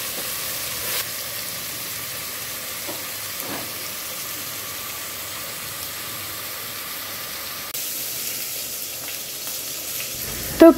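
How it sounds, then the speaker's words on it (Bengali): Whole garam masala and meat frying in oil inside a pressure cooker, a steady close sizzle with faint clinks and a short clatter at the very end, with no voices. "এখানে এই যে তেল দিয়ে প্রেশার কুকারে এরপরে গোটা গরম মশলা একটু ভেজে এর মধ্যে আমি মশলা দিয়ে মেখে রাখা মাংস দিয়ে দিব"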